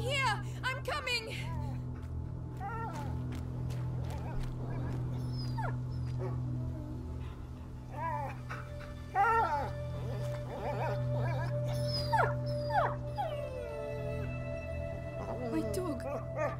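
An injured dog whimpers in the medieval video game A Plague Tale: Innocence, giving repeated high, wavering whines and yelps over a low ambient drone that lasts throughout.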